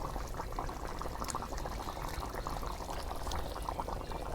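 Beef curry bubbles in a pot as it cooks down, making a close, dense, continuous bubbling and gurgling with small pops, and nobody speaks.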